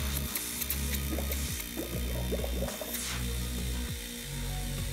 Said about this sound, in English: one thing I know about these compressors is that they've gotta build up pressure before they'll pump air